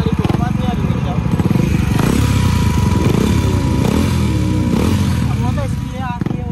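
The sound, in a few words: motorcycle making a whirring noise during stunt practice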